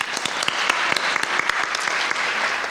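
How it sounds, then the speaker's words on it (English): Audience applause at a film festival awards ceremony in Austin, Texas: a dense, steady burst of many hands clapping, with a few sharper individual claps standing out, fairly close and filling the room for a few seconds. "Let's give them all a round of applause."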